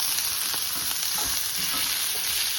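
Potato tofu scramble frying in a pan while garlic powder is stirred in, a loud steady sizzle with soft irregular spatula scrapes over it.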